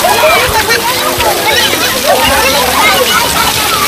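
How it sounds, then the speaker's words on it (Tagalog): Continuous splashing and sloshing as a family bathes in cold water outdoors, close and loud, with people talking and calling out over the water. "Sabayan nyo kami mga lods sa pagligo namin dito"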